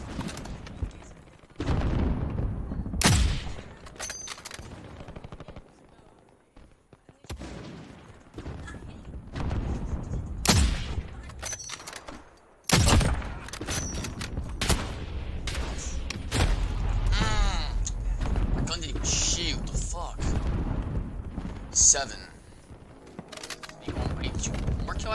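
Assault rifle fire in a Halo Big Team Battle match, repeated sharp bursts of shots scattered among quieter gaps, mixed with other game effects and someone talking over it.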